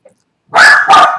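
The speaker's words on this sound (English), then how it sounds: "If the big dog outside barks, she's gonna bark." A dog barks indoors in two quick, loud bursts after a near-silent start, likely set off by a bigger dog barking outside on a homestead.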